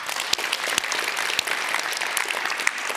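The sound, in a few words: applause for the organisers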